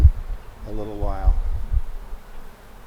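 Honeybees buzz around a hive box during a package installation on a farm, a close steady hum with a rising and falling whine, rustling and low thumps beneath.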